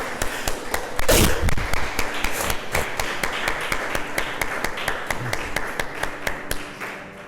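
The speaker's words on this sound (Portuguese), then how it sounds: "Vamos aplaudir o Senhor." A church congregation claps together, irregular and fairly close, with a louder burst early on and steady applause continuing to fade near the end.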